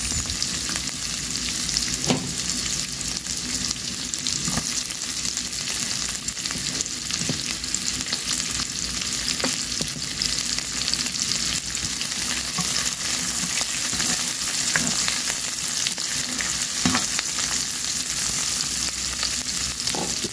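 Onions frying in hot oil in a pan, a loud continuous close sizzle and crackle lasting throughout, with occasional soft taps of a utensil and no voices.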